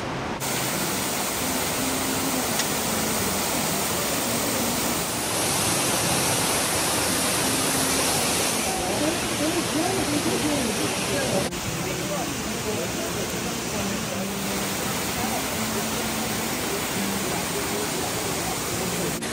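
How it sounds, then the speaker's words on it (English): Imlil waterfalls in the High Atlas Mountains of Morocco roar as a dense, steady rush of falling water, loud and continuous throughout with only slight shifts in level. "And here we are at the waterfalls."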